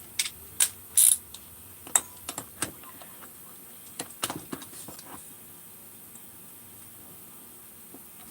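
A ratchet wrench torquing a bolt on a 350 engine: scattered sharp clicks and short ratcheting bursts, close and distinct against a quiet background, coming in irregular groups with pauses.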